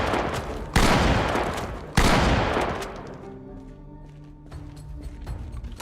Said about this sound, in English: I definitely brought in a lot of these gunshots.